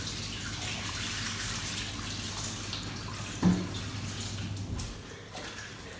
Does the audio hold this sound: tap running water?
yes